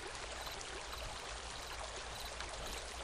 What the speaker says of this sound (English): I guess we're gonna go through this waterfall here.